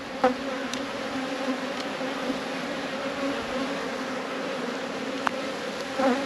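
Honey bees crowd a brood frame in a hive, a dense continuous buzzing hum close by with a few louder individual bees passing near, and no voices.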